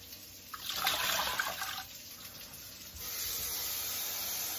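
A 4-cup pot filling with water from a tap for bean soup, a steady hissing rush that swells and wavers over the first two seconds, then settles into an even, continuous pour.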